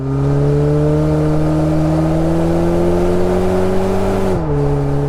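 A loud, deep engine drone from a Carvin aftermarket exhaust on a 2024+ Toyota Tacoma holds steady and close, then drops slightly in pitch near the end, like a truck exhaust under load.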